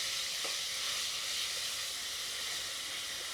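A paste of green chili, garlic and coriander sizzles steadily in hot oil, a close, even hiss with no talk.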